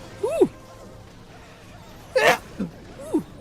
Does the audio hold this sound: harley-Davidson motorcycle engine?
no